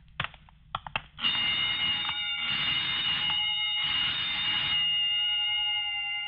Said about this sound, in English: just testing the burglar alarm, I guess.